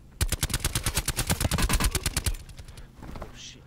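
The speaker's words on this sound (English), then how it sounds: "They're getting shot from the left." Call of Duty: Black Ops 4 gameplay: a loud, rapid burst of automatic gunfire with evenly spaced shots lasts about two seconds, then fades to quieter background game noise.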